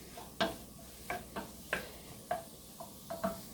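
Flour cooking in a pan for turkey pot pie is stirred with soft, quiet scraping strokes, about eight separate swipes spaced irregularly, with no talking.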